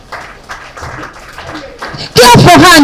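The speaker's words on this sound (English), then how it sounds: "Please give her a round of applause." A short burst of loud applause and cheering breaks out from an audience at a tech event closing ceremony, welcoming a student presenter, right after a stretch of quieter talking and murmuring.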